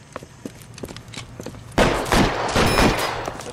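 Rapid gunfire crackles in a holdup shootout in the video game L.A. Noire, scattered shots at first, then a loud dense burst of overlapping fire that keeps going.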